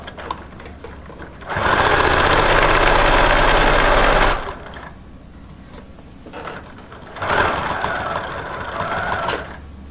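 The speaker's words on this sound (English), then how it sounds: "I'm going to sew around all sides" A sewing machine stitches around three sides of a fabric pocket for a repurposed organizer, with a steady loud mechanical whirr in two runs separated by a quieter pause.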